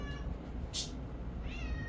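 A house cat meows for attention, a faint, drawn-out, slightly rising cry near the end, with a brief soft rustle just before it over low room noise.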